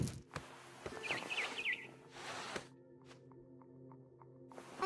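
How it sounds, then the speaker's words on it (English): A barn swallow chirps a quick run of three or so bright notes outside a window in the video game What Remains of Edith Finch, over a soft ambient hum and scattered clicks. "Then I heard chirping outside my window. It was a barn swallow going back to her nest."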